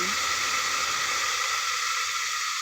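Kangkong (water spinach) dropped into a hot pan for adobong kangkong, giving a loud, steady broadband sizzle and hiss that fills the whole clip without pause.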